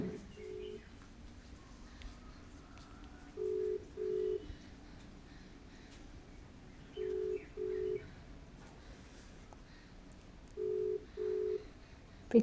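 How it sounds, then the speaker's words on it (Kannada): A WhatsApp call rings on a mobile phone, paired tonal ring bursts repeating three times at steady intervals over a quiet background. "ರಿಂಗ್ ಆಗ್ತಾಯಿದೆ."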